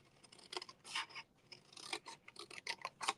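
Scissors cut through cardstock for an exploding box craft project in a quick series of close, dry rasping snips, some louder than others, with no talk.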